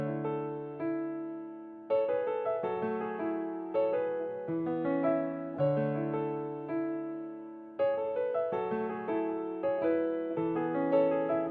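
A slow, gentle piano melody plays alone, each chord and note ringing out softly and sustaining before the next phrase begins.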